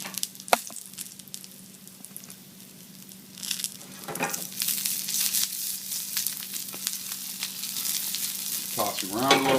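Garlic sizzling and frying in hot oil in a pan, a steady crackling hiss that builds in intensity, with occasional stirring scrapes and a brief clatter near the end.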